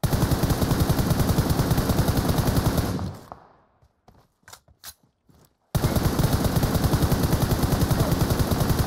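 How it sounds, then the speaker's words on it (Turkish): Rapid automatic gunfire in the mobile battle royale game PUBG Mobile, loud and close, in two sustained bursts with a short quieter gap of scattered single shots between them. "Fena ateş ediyor ya bu arada."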